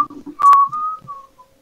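A person whistling a short, wavering tune, a thin pure tone sliding and holding for about a second, loud and close with a couple of sharp clicks, then trailing off into near silence.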